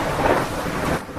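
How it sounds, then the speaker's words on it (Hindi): Cartoon rainstorm with a low rumble of thunder rolling over a steady hiss of heavy rain, loud and continuous for a brief moment. "3 दिन बीत गए लेकिन अभी तक बारिश बंद नहीं हुई।"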